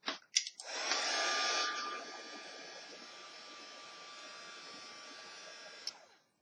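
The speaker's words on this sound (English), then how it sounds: "make sure that you grab your heat tool and just dry it up." A craft heat tool blows a steady, loud whoosh of hot air to dry paint on a scrapbook page, after a few clicks at the start, then settles to a slightly softer roar before switching off.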